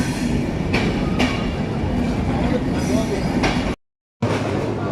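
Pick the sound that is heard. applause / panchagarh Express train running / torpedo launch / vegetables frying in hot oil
panchagarh Express train running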